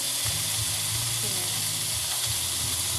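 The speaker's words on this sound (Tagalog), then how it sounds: "Nagigisa lang ako, guys, sa mga gulay-gulay" Vegetables sautéing in a pan before noodles go in, a steady broad sizzle and hiss close by, with faint clinks from stirring.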